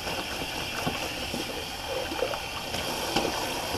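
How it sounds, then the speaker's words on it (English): Water runs over a 30 mm synthetic shaving brush knot as it is rinsed, a continuous close splashing stream with small irregular spatters. "just rinsing out the brush"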